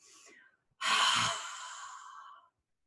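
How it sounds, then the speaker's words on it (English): A breathy exhalation comes during a dragon's breath yoga breathing exercise, a short soft breath followed after a pause by a longer forceful rush of air that slowly fades, close and without talk. "Inhale in dragon's breath to the ceiling."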